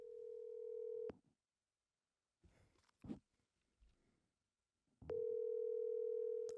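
A phone call going out: a steady, loud dial-type tone sounds alone, breaks off into a gap with brief rustling and a soft knock, then resumes just as loud.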